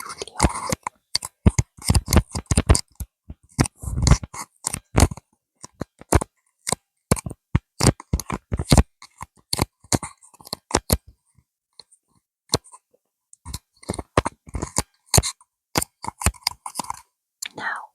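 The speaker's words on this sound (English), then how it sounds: "let's start with touching and scratching first" Close, crackly scratching and tapping on a cheap lavalier microphone, in irregular bursts of sharp rustles and thumps with short pauses between them, no talking.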